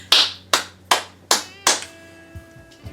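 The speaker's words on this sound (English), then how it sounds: "clap for me on 3" Five sharp, distinct claps ring out in a steady rhythm at a chili cook-off, each one close and crisp, followed by a quiet tail with faint handling noise.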